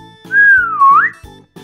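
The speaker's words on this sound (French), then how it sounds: "Attends, c'est moi que t'es en train de siffler?" A person whistles to summon an assistant: one loud, clear whistled tone that holds steady, dips and then rises at the end, heard alone over a faint background pulse.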